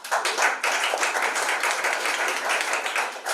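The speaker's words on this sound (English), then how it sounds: "So please, let's give them a round of applause." An audience at a national pitch competition in Burundi claps in a sustained, dense round of applause that starts abruptly and holds steady throughout.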